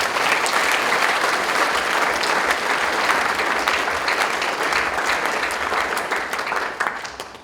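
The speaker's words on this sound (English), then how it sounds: "Round of applause, Ryan Rasmussen" Audience applauds speaker Ryan Rasmussen, an old boy giving an address about life at Harvard: dense, steady applause from many hands, loud and continuous for several seconds before thinning slightly at the end.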